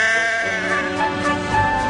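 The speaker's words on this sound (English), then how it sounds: "Some careless sheep had strayed onto the line." A sheep bleats loudly and close, one sustained wavering cry that fills the moment and carries on with no other sounds.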